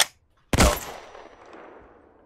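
A single loud gunshot cracks out in the Hell Let Loose video game, its echo trailing off and rumbling for well over a second, with a faint brief sound just before it.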